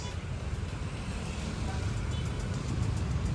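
Road traffic rumbles steadily at the EDSA Corner Ortigas intersection, a continuous low roar of cars and buses nearby, slowly growing louder, with faint voices mixed in.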